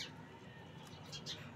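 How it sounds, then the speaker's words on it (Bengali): A bird calls near a garden plant, a few short chirps and tweets rising over a steady outdoor background hum, fairly faint and alone without talk. "পাখি ডাকতেছে।"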